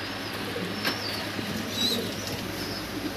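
Male Mundian pigeons coo in a cage at a pigeon farm, soft low cooing under a steady, noisy background hiss, with occasional faint rustles.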